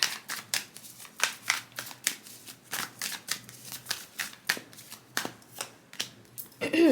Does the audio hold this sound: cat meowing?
no